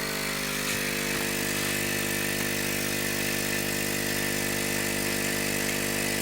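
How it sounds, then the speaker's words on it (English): A laser engraver's air assist pump pushes air out through a 4mm nozzle onto material, giving a constant, loud hum with steady tonal buzzing and a hiss of airflow that stays unchanged throughout. "my air assist nozzle that I'm testing, and that has a 4mm hole, and that's just blowing onto some material"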